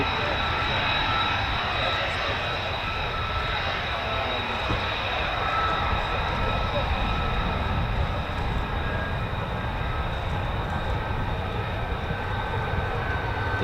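An F-35A fighter jet flies over RAF Lakenheath, a loud, continuous roaring engine rumble with a broad hiss that holds steady throughout without letup.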